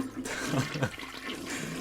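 Cartoonish toilet flush from a homemade Tynker video game, a short swirling gurgle of water that rises and drains away within a couple of seconds, heard alone without talk.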